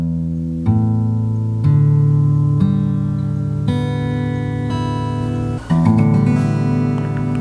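Six open guitar strings plucked one after another, each note ringing out clearly and sustaining into the next, played slowly and alone with no talking.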